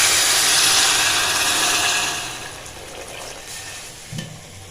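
Water poured into a hot cooking pan with spices and turmeric makes a loud, broad sizzle that gradually fades and settles, with a brief clink near the end.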